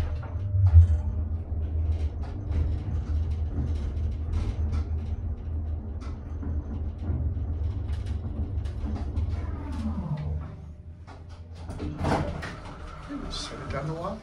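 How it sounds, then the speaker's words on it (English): Vintage elevator with a sliding door and a running car cab, a steady low mechanical hum and rumble throughout, with door-sliding clatter and shifting tones near the end while people talk over it. "I will say this elevator runs amazing."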